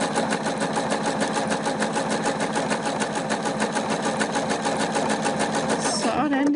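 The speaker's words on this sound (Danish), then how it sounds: "Nu syr den mod venstre." A sewing machine stitches a patch onto a trouser leg with a steady, rapid mechanical chatter that runs close and continuous for about six seconds before stopping abruptly.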